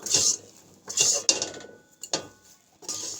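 Cooked semolina being scooped out of a pan for a Swiss roll cake, heard as a series of close, distinct scraping and clinking strokes of a utensil against cookware, each followed by a short pause.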